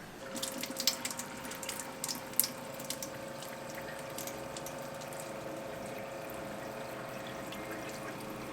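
Cold water runs steadily from a tap, with a few splashy drips and clinks early on, then settles into an even, continuous flow.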